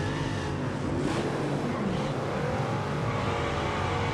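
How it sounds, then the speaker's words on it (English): A car engine roars and whines steadily while drifting on a street map in BeamNG, with rising and falling revs and faint tire noise, loud and continuous, no talking heard. "This is our first time drifting"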